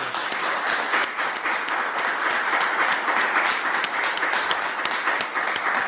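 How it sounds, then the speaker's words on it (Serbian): A live audience applauds at an event, a dense and steady wash of many hands clapping that holds at an even loudness from start to finish. "hvala ti još jedan put i možda još jednim aplauzom da iskrati"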